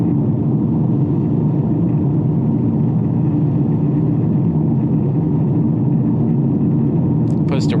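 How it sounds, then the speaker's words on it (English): Steady low road rumble from a 2019 Volkswagen Jetta GLI rolling over a rough, sandpaper-like surface, a continuous loud drone with tire roar, and a brief higher squeak near the end. "Puts the road noise to the test, extreme test, I would say"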